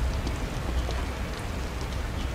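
Steady rain falling in the outdoor setting of the horror video game The Evil Within, a dense continuous hiss of drops with no talking.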